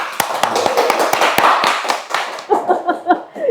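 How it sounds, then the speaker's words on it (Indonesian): A small group claps during a podcast about village environmental conservation, loud and close with sharp, uneven hand strikes. The claps thin into a few scattered ones and light laughter near the end. "tepuk tangan dong!"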